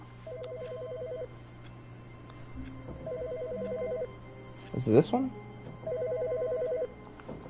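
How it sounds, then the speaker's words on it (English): Telephone ringing in the video game The Stanley Parable, three bursts of trilling electronic ring spaced out across the clip, with a person speaking briefly between rings over a low background hum. "Where's the phone ringing?"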